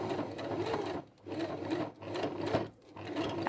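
A sewing machine stitching a leather clutch handle, a close, fast mechanical chatter of needle strokes in short bursts separated by brief pauses as the work is pivoted, with no talking.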